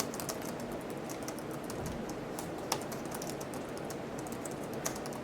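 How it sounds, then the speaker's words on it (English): Quiet, steady typing on a computer keyboard, a fast patter of soft key clicks with a couple of slightly louder taps, no voices. "Let me type."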